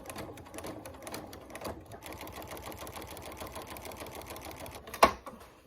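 Sewing machine running straight lines of stitching on a harvest apron, a steady close rapid mechanical chatter with a sharp clack near the end.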